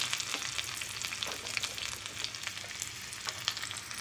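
Chopped onion sizzling steadily in hot oil with popped mustard seeds, a dense, close crackling hiss that continues without a break.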